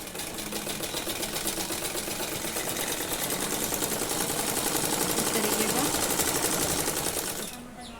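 A sewing machine stitches a patiala salwar in one continuous rapid run, its steady mechanical chatter loud and close for about seven seconds before stopping abruptly near the end.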